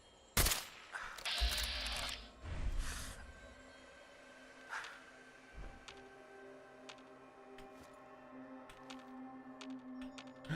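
Gunners exchange fire in Fallout 4: a loud burst of rapid shots opens the scene, and scattered single cracks follow over steady ambient hum, fading to sparse distant pops.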